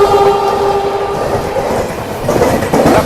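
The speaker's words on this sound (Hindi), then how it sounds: "और सामने से कोई और एक्सप्रेस भी आ रही है" An oncoming express train rushes past on an Indian railway, a loud, steady roar with a sustained horn tone at first, then rhythmic clickety-clack of wheels over rail joints as the carriages go by.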